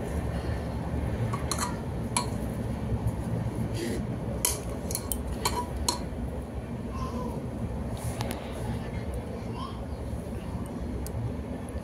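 A utensil scrapes and clinks against a cooking pot as leafy greens are stirred, light metallic taps scattered over a steady background hiss, with no clear talking.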